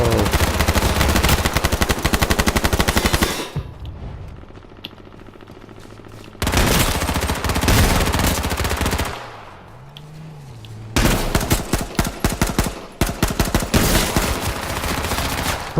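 Video game gunfire comes in long bursts of rapid automatic shots, loud and close, broken by quieter gaps with low rumbling, then resuming in several more sustained volleys.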